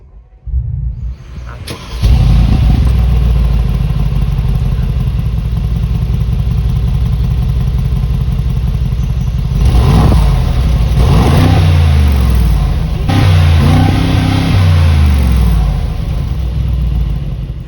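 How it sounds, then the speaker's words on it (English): A 2021 Mercedes-AMG G63 V8 fires up with a sharp start, then settles into a loud, deep idle with several throttle blips and revs rising and falling, heard close with no talk. "the V8 has now absolutely roared"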